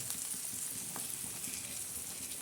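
Egg bhurji fries in a pan with a soft, continuous sizzle and light crackle, steady and fairly quiet throughout, with no voices.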